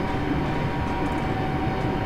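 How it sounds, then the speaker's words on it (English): A Class 385 train brakes hard in Train Simulator Classic on the Glasgow route: a steady, loud rail rumble with a thin sustained whine running through it, and no voices. "Definitely need to be braking hard here."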